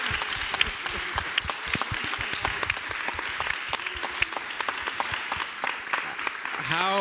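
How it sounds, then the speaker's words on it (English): A live audience applauds a performing group at a talk on Fisk University's opera legacy, irregular individual claps and scattered crowd clapping rising and falling over several seconds, fairly close, with a short voice breaking in at the very end. "Can we have another round of applause for this amazing group?"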